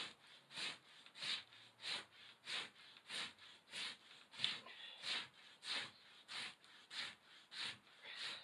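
Rawhide being scraped, a rhythmic back-and-forth rasp of about a dozen regular strokes, each a gritty swish close by, with no talking.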